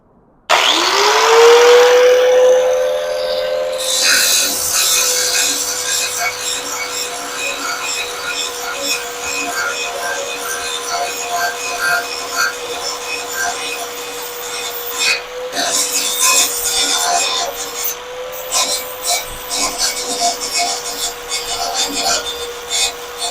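Grinder working on the metal floor pan of a shortened VW buggy: a loud, continuous whine after a rising spin-up, with rough grinding noise that swells and eases as the tool bites, close and alone.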